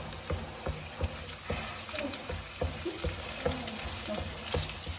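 Mushrooms fry in oil in a pan for a Kerala-style mushroom curry, hissing steadily while a utensil taps and scrapes in a regular rhythm, close and fairly soft.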